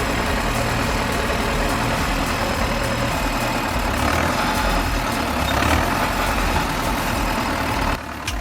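A heavy tractor engine runs steadily and loud as the machine is worked up onto a high spot, a continuous low rumbling drone that holds throughout before briefly dropping near the end.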